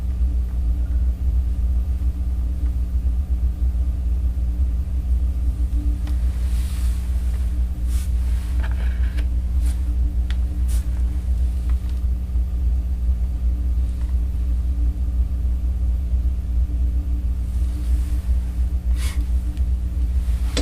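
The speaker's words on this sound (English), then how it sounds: "I also want to slow down that wheel." A potter's wheel spinning while clay is thrown, a steady low motor hum and rumble throughout with faint intermittent rubbing and tapping sounds above it, no speech.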